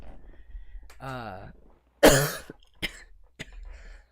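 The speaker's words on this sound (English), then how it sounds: "I have a bad cough. I've been having a bad cough all week." A single sharp, loud cough bursts out near the midpoint, followed by a couple of short throat sounds, with quiet murmuring voice before it.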